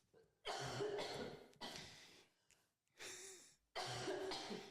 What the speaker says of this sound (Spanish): Te da tos y entonces se interrumpe.